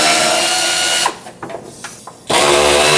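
A power tool spins 8mm bolts off a 2011-2016 Ford F-350 during fog light installation, whirring loudly in one long burst, dropping off for about a second of brief catches, then resuming close by.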